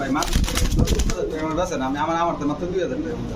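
A Cobra Military male pigeon coos close by, its soft throaty calls blending with brief wing or handling noises while someone talks over it.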